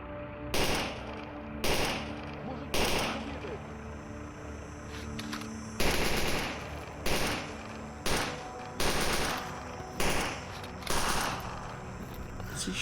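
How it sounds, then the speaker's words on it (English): Video game gunfire in a run of loud, evenly spaced bursts of shots, close and sharp, repeating about every second over a steady background hum. "What's he shooting at?"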